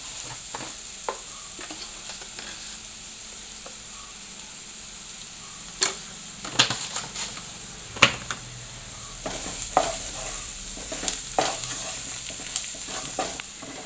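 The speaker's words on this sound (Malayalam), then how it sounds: "ഇവരെ എല്ലാവരെയും കൂടി ഇട്ടൊന്ന് ഇളക്കുക." Chopped greens frying in a pan with salt crackle under a steady sizzle, while a spoon stirs with irregular scrapes and clicks that grow more frequent toward the end.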